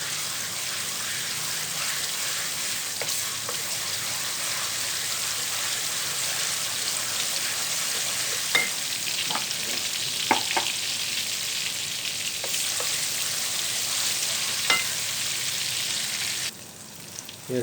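Ginger garlic paste fries in oil in a pan for chicken karahi, giving a steady dense sizzle throughout. Occasional stirring clicks and scrapes sit on top, with no talking.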